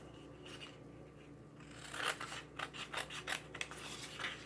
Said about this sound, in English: Now all I'm going to do is just take my scissors.